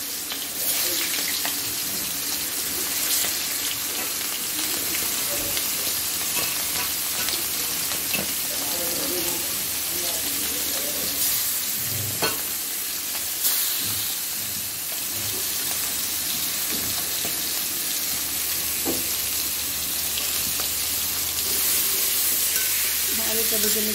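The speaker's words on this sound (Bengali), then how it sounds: "তরকারি মাছটা ভেজে নিব।" Fish pieces for an ilish curry with raw banana and potato frying in a hot wok, a steady hiss and sizzle running throughout with occasional stirring clinks and faint background voices.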